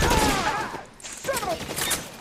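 Gunfire in the video game L.A. Noire, a burst of shots at the start followed by a second volley after a short lull, mixed with game effects.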